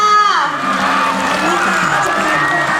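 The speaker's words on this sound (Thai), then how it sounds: "ขอเสียงปรบมือต้อนรับให้แก่คทากรของโรงเรียนพัทลุงด้วยค่ะ" A loud crowd cheers and claps to welcome school baton twirlers at a provincial athletics meet, with whoops and children's shouts over the steady roar.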